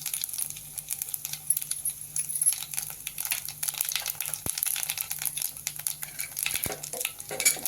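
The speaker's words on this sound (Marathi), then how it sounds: "तेल तापलेलं आहे आपण गॅस चालू केला पॅन ठेवला आणि मोरी टाकली" Mustard seeds crackle and spit in hot oil in a pan on a gas stove, a steady sizzling hiss with scattered sharp pops and a couple of louder clicks, close and fairly quiet, with no talking.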